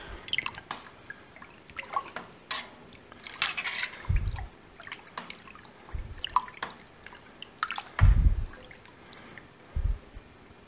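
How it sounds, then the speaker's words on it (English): A thermophilic culture being stirred into milk for homemade Asiago cheese: soft liquid swishes and drips come in irregular bursts, close and fairly quiet, with no talk. "So now we're going to stir it into the milk to distribute it throughout the milk."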